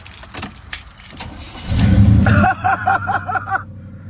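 Keys jingle, then a box Chevy's starter cranks the engine in a quick run of rhythmic pulses. It is close and loud, followed by a short quieter tail.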